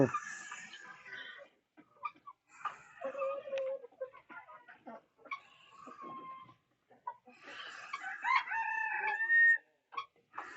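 Native chickens cluck close by in scattered bursts on a mixed farm in Kerala, and a rooster crows loudly near the end.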